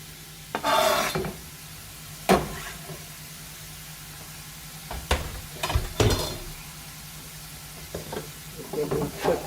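Garlic and onions frying in a pan for mini meatloaf, sizzling softly under several scraping stirs of a spoon against the pan, in separate bursts.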